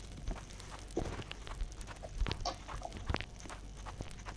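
A chicken clucks in the survival video game 99 Night, with short, repeated clucks at a moderate distance over light footsteps and game ambience. There is no speech.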